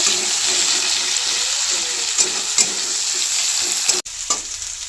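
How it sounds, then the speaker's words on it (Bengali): Onions and cumin seeds frying in hot oil for a patol chingri (pointed gourd and prawn) dish, a steady close sizzle with stirring scrapes, a brief gap near the end, then more sizzling. "পেঁয়াজগুলো ছেড়ে দেবো পেঁয়াজগুলো হালকা ভেজে নেব"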